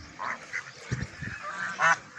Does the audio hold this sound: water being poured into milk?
no